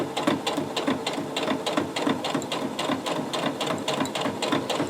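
Domestic sewing machine running steadily, stitching a seam on a zip top bag, a close, continuous rapid mechanical rattle with no talking.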